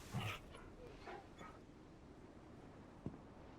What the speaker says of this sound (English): You can't hit me with the sad puppy noises?